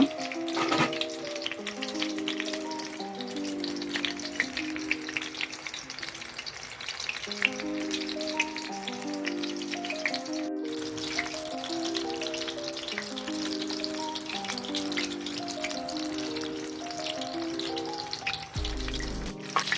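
Beef curry bonda deep-fries in hot oil, producing a continuous bubbling sizzle that runs under a steady instrumental music track.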